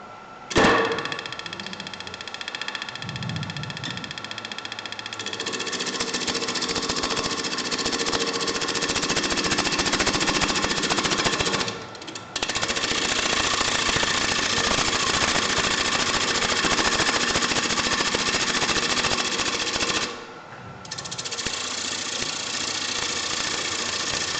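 Wood lathe turning a blank with a gouge as the spindle speed rises, a steady whirring drone with cutting noise that holds loud and continuous, dipping briefly twice.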